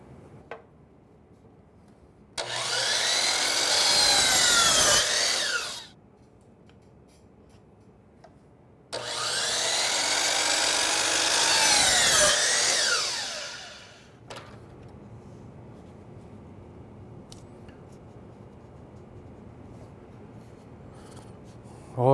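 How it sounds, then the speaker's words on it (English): A miter saw makes two 45-degree cuts through wood pieces, each a loud whirring spin-up and cut lasting a few seconds before winding down, with quiet shop pauses between and a fainter third spin-down, no talk. "I'm going to slide the miter gauge over to 45, and I'm going to cut each one of these pieces."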